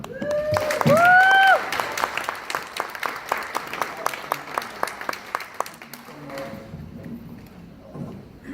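Audience applause fills a meeting room to welcome a senator at an FASD gathering, loud at first with a brief cheer, then steady rhythmic clapping that gradually thins out, with a few murmurs near the end.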